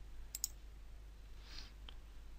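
Mouse clicks at a computer while working in Lightroom 5: a quick pair of sharp, close clicks near the start, then a softer single click later, over a quiet background hum.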